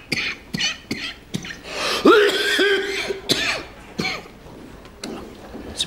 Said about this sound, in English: It's a pretty nasty sounding cough.